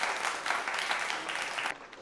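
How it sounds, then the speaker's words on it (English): A school audience claps for a gold certificate winner at a Founders Day awards ceremony, a dense burst of applause lasting under two seconds before cutting off abruptly. "a special round of applause for him"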